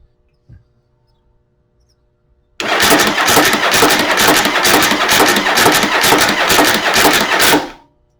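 A Yamaha Virago XV750 motorcycle engine, fitted with a modified starter, cranks on a full battery and catches, running loud and steady for about five seconds before cutting off abruptly, preceded by a faint click.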